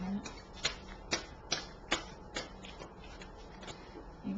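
A deck of tarot cards being shuffled at a reading, giving a run of crisp riffling clicks and slaps in irregular bursts. The sound is fairly quiet and close.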